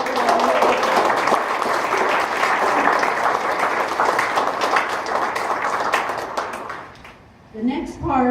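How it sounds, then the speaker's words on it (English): Audience applause at an academic event swells into dense, sustained clapping, then fades out near the end as a voice begins speaking. "let's have a round of applause to recognize"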